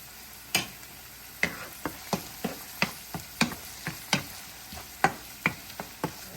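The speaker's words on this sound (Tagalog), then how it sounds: "Gisa lang. Gigisa lang natin." Ingredients sautéing in a pan give a soft, steady sizzle punctuated by a dozen or so sharp, evenly spaced taps and scrapes of a utensil stirring, close up and without talk.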